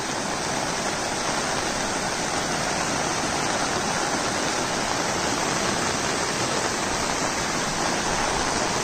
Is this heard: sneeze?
no